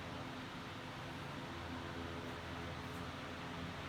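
A Westinghouse 16-inch standard oscillating fan running on low gives off a steady, even whoosh of airflow, a soft broadband hum with no breaks or changes, heard close and alone.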